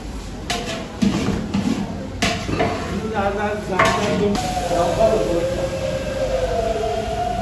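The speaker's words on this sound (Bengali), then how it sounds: "দেখেন এখানে রান্না হচ্ছে" Cooking for a Ram Navami feast, with metal utensils stirring and scraping in large pots over a steady sizzling hiss and clatter. A few sharp knocks ring out early, and a low background drone carries throughout.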